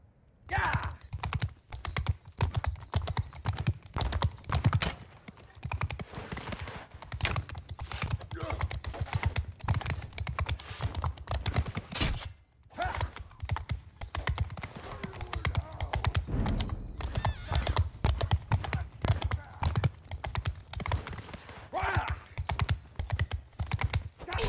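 Horse archer hooves clip-clop in a strategy video game: dense, rapid, rhythmic hoofbeats continue almost the whole time, with keyboard clicking and a player's voice over them.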